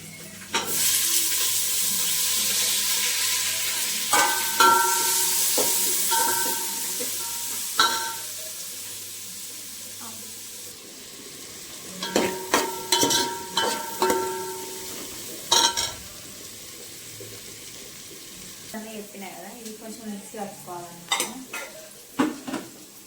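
Green chillies fry in a hot pan for egg rice, with a loud, steady sizzle and hiss broken by bursts of metal spatula scraping and clinking against the pan, close up.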